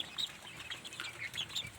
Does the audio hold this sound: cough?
no